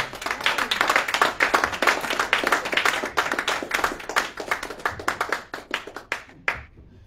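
A church congregation claps together in a steady, rhythmic beat to acclaim Jesus. The clapping is loud and close at first, then thins out and fades to a few scattered claps.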